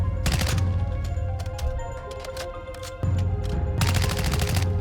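Rapid automatic gunfire in Modern Warfare 2 with Poison Dart toxic tracer rounds, loud close bursts of rattling shots separated by brief pauses and a final sustained volley, with no talking.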